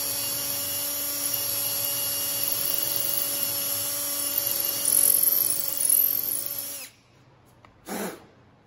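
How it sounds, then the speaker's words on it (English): High-pitched whining power drill runs steadily while drilling a hole in an electric guitar body, rising slightly in strain near the end, then stops abruptly, followed by a brief short burst. "now I start the drill and I can start tilting it a little"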